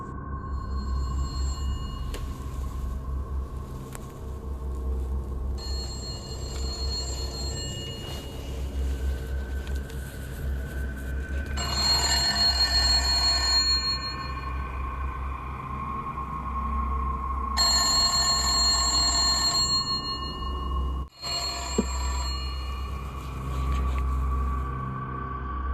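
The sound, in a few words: old rusty telephone ringing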